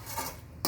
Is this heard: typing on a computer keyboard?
no